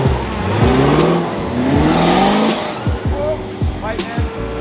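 Land Rover Defender 90 reversing slowly off-road on a green lane, its engine rumbling and rising in repeated revving pushes, loud and close, with a person talking over it.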